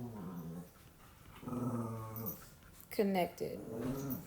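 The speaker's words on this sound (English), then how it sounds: "You all have to excuse my dogs. They are playing." Pet dogs playing indoors, growling and yipping in bursts with a whimpering cry near the end, close and fairly loud, while a person speaks briefly over them.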